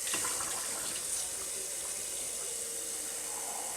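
Water runs steadily from a sink tap, a constant close hiss and splash with no pauses and no talk.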